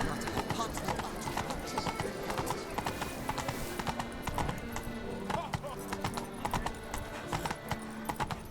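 Horse hooves clip-clop at a rapid gallop in The Witcher 3, a busy rhythmic drumming of hoofbeats that carries on throughout, while someone talks over it and game voices are heard.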